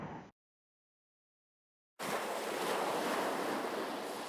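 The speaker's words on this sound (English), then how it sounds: "a fierce storm was raging in the sea" A stormy sea with a fierce gale roars as a steady, dense wash of surf and wind after a short cut of near silence, loud and unbroken.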